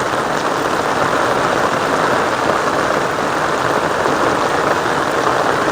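Steady, loud monsoon downpour over a village street, with runoff water rushing through the lane, a dense continuous wash of rain and flow with no pauses.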